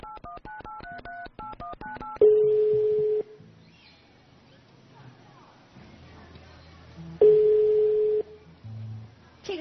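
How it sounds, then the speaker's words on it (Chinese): A telephone number is dialed on a studio phone during a children's television show: a quick run of about a dozen touch-tone beeps, then two long steady ring tones separated by a pause, with voices murmuring in between. "我们再拨通第二通电话"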